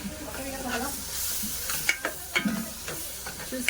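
Marinated prawns drop into a pan of softened onions and sizzle loudly, with steady frying hiss and a few scraping stirs of a spoon close by; no talking.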